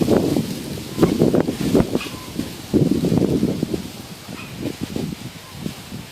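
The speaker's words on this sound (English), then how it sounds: "We've been getting these crazy 20-30 mile an hour gusts here." Strong 20–30 mph wind gusts buffet the microphone at a campsite with a clothesline nearby, giving loud, uneven rumbling bursts and rustling that surge and ease repeatedly.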